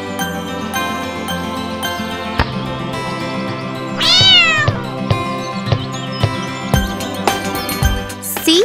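A cat meows loudly in one drawn-out call over a backdrop of tinkling chime-like music with repeated bright dings.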